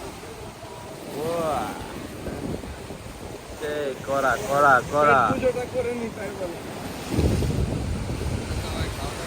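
Waves rumble steadily on the shore at Kuakata beach beneath wind noise, while a person nearby chants and talks loudly over the surf, which surges again near the end.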